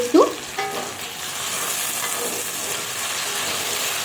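Potatoes frying in oil with salt and turmeric over a low flame, giving a steady soft sizzle throughout with a brief stirring scrape near the start.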